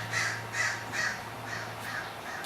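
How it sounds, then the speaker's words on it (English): A crow caws six times in an even, steady series, each call harsh and fairly close, with no talk over it. "Apparently the crow has commentary to add"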